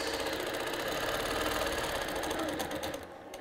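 Sewing machine running steadily while stitching a quilted orange peel design, a close, fast, even mechanical whir that eases off briefly near the end.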